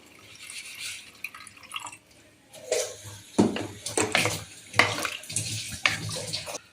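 Water splashes and drips into a pot for cooking biryani rice in uneven close bursts, some louder pours between quieter trickles, with no speech over it.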